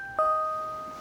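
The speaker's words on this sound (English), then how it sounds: "That's a doorbell, isn't it?" Doorbell in the video game The Silver Case, a single clear electronic chime struck once and ringing out as it fades over about a second.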